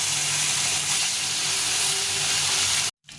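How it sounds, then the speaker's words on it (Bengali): Kalbaush fish pieces rubbed with salt and turmeric fry in hot oil, giving a dense, steady sizzle up close that cuts off abruptly near the end. "মাছগুলো ভাজা হয়ে গেছে"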